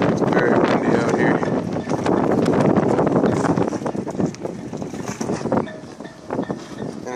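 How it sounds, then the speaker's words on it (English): Steady, heavy wind buffets the microphone on a boat at its mooring, a loud broadband roar with gusty fluctuations throughout. "It's very windy out here."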